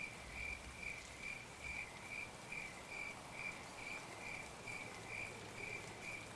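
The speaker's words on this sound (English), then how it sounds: "It's a nice rainy, foggy day." Soft, continuous rain hiss in the Escape from Tarkov video game on a foggy day, faint and distant, with a rhythmic insect-like chirp pulsing steadily above it and no voices.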